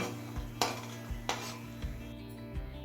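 Fried lentil dumplings are scooped out of a pan of hot oil into a bowl, giving a few sharp metallic clinks and scrapes of a utensil against cookware over a faint background sizzle.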